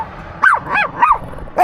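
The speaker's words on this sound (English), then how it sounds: "Yoda and Winnie, they're making a little bit of noise in here now. I think they've seen another dog over there." Two dogs inside, reacting to another dog nearby, let out four sharp yipping barks in quick succession, close and loud.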